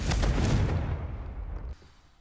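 A Confringo blasting spell goes off in Hogwarts Legacy, a heavy booming explosion with a deep rumbling body that dies away abruptly after under two seconds, leaving quiet.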